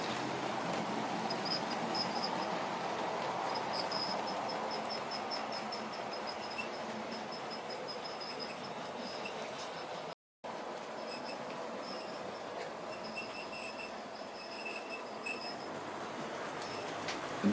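A model railway train pulling ex-LMS coaches runs steadily on an East Anglian layout, a continuous close rolling rumble with rhythmic ticking of wheels over rail joints and faint squeals, alone without talk.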